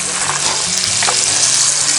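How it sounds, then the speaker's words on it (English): Bacon fries in a Dutch oven over a campsite fire in the Smoky Mountains, a loud, close, continuous sizzle with steady crackling and spitting fat and faint stirring, with no voices over it. "we got that bacon kind of crisped up a little bit"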